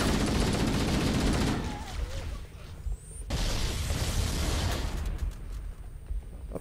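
Gunfire and explosive bursts from the Halo 1 video game, a dense, loud barrage in the first half that drops briefly, then resumes with sustained shooting to the end.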